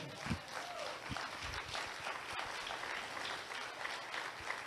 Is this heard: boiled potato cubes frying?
no